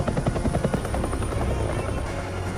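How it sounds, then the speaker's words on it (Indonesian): A helicopter arrives with a loud, steady thumping rotor chop and engine whine, close and continuous throughout. "Dan saat helikopter datang"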